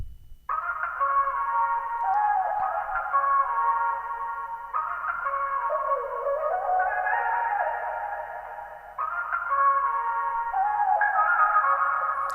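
A processed piano sample chop, shaped with EQ, a noise gate and compression, loops in bright, dense repeated phrases with a slightly retro character, playing loudly and continuously without talk.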